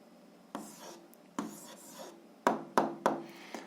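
A pen scratches an algebra answer onto paper at a desk, close and soft, in a few short strokes, with quiet speech in the background.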